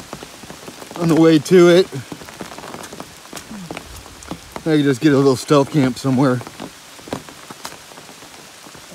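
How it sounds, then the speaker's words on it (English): Steady rain falling on the Appalachian Trail, a constant patter heard throughout while a hiker talks over it close by. "Yep, it's raining pretty good."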